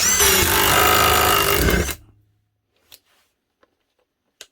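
A cheap knock-off Milwaukee-style impact wrench hammers on a small M8 bolt in one loud, continuous two-second burst of rattling impacts. It cuts off abruptly, leaving near-silence broken by a few faint clicks and taps.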